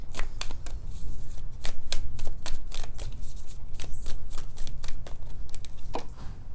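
A deck of playing cards is shuffled during a tarot-style pick-a-card reading, giving a steady run of quick riffling snaps and flutters at close range, with no talk.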